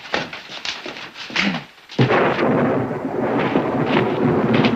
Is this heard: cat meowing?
no